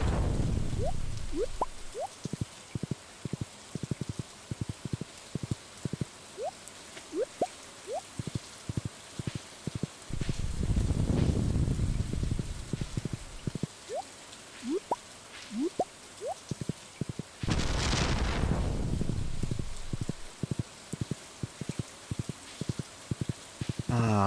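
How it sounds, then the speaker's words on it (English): Rain in the video game Stardew Valley, a steady hiss of falling rain that runs through the whole stretch, with repeated soft ticking game sounds and a few louder swells on top. "Rainy day."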